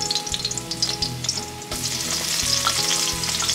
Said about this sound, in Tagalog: iuna na kong gisal ang loya